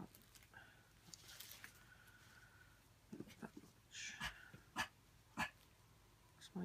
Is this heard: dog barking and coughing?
yes